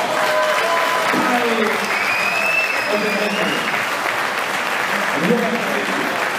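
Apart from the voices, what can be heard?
audience applause at a boxing match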